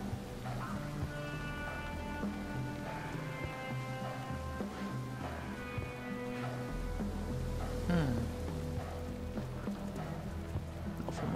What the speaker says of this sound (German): Durch den Regen.